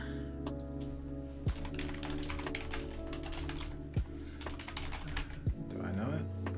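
Someone types a password on a computer keyboard, a quick run of close, dry key taps with a few heavier thunks, under faint background hum.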